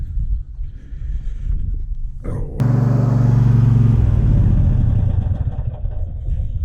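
Troy-Bilt XP zero-turn riding lawn mower engine catching after a tune-up, a brief low idle rising into a loud, steady rumbling run, close by with no talk.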